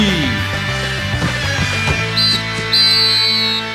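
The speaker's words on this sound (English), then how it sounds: "There's the whistle. That's the first half of the game" A referee's whistle in the Disney Sports Soccer GameCube game (2002) blows twice at halftime, short bright tones over loud, steady in-game music and crowd bed.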